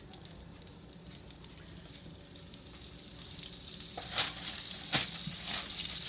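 Bread fries in butter in a pan over medium heat, with a continuous close sizzle that swells and crackles louder toward the end.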